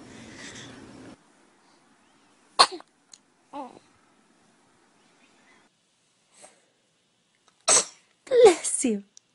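A baby sneezes a few times, sharp short bursts separated by long quiet gaps, with a pair of stronger sneezes near the end and murmured voices at the start.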